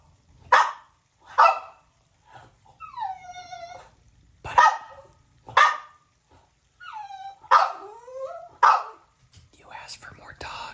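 A dog barks in short, sharp bursts spaced a second or so apart, close and loud, between whiny, yipping whimpers in a quiet room, with a person whispering softly between barks.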